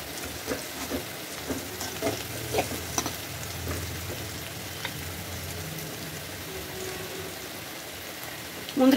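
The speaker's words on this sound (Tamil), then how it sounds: "முந்திரி, பிஸ்தா, பாதாம் எல்லாமே சேர்த்துக்கலாம்" Chopped cashews, pistachios and almonds fry in hot ghee and oil for sheer khurma, a steady close sizzle with occasional stirring scrapes throughout.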